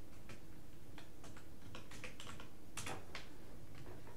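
Someone types a terminal command on a computer keyboard while working in Arch Linux: a run of close, crisp key clicks in an uneven rhythm, with a few heavier strokes, and no talking.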